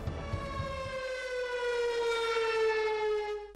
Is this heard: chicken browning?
no